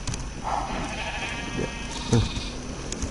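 In the Minecraft video game, a sheep bleats once or twice, short and fairly faint under steady game ambience and noise while the player dyes sheep.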